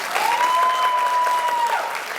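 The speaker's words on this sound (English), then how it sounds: "Let's give our 6th grade participants another round of" Steady audience applause for sixth-grade participants at a middle school literacy event, a full round of clapping lasting about two seconds with a faint whistle-like tone running through it, fading slightly at the end.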